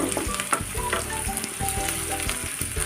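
Onion, green chilli and a bay leaf fry in hot oil, a loud, crackling sizzle broken by repeated scraping stirs and spoon clinks against the pan, no talking.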